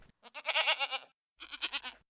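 A goat bleats twice in a row, close and fairly loud. The first call is longer and wavering, and the second is shorter after a brief pause.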